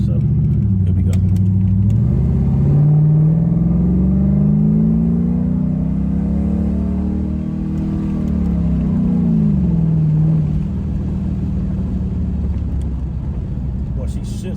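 An LS-swapped Monte Carlo pulls hard from close range, its loud engine drone rising steadily in pitch, then dropping with a shift and climbing again. A voice can be heard under the engine.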